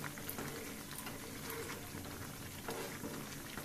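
Milk cream simmering in a pot to make homemade ghee, a faint steady bubbling and frying sizzle with occasional soft stirring sounds and no voices.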